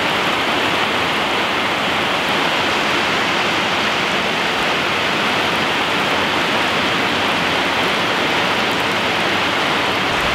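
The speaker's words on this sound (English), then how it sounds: "The storm is coming down heavy." Heavy rain storm at an off-grid homestead, a dense, steady roar of downpour with no breaks, loud and enveloping throughout, with no voices.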